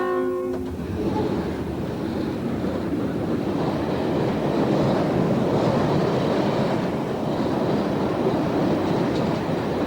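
A long northbound freight train of 108 wagons, about a kilometre in length, rolls down the Raurimu spiral in New Zealand with a steady loud rumble and wheel roar, preceded by a brief horn-like tone at the start.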